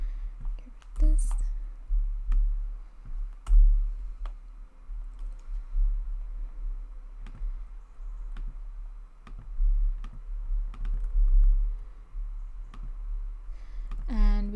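Typing on a computer keyboard while building a website homepage, sparse soft clicks and taps spread over a quiet room hum, with faint speech at the start and end.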